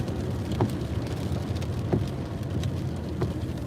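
Steady rain patters and hisses in a continuous wash, with a few faint low thumps breaking through, heard from inside a car while driving.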